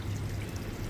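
Water pours steadily out of a fish tank holding small tilapia, a continuous low gushing stream with no voices, close and even throughout.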